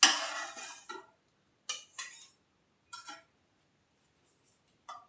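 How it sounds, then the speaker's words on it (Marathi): Lentil cutlets being lifted onto serving plates, heard as a few sharp clinks and scrapes of utensil against dishware, close and distinct, separated by silent pauses with no talking. "आता आपण ते सर्विंग बाउल्समध्ये प्लेटमध्ये काढून घेऊया."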